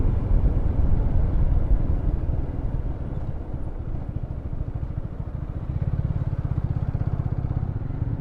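A Loncin GP165 motorcycle engine putters steadily nearby, a low rhythmic throb that idles and swells slightly, with no voices.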